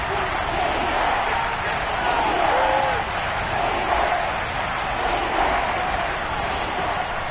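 Stadium crowd at an American football game between the Patriots and Washington, a steady broad roar building ahead of a big third down, continuous and fairly loud with a commentator speaking over it.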